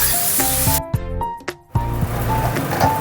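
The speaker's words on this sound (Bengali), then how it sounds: "চালটা একটু ভেজে নিই।" Gobindobhog rice toasting in a hot pan, a sizzle that drops out briefly between several clattering stirs and scrapes, close and moderately loud, with no talking.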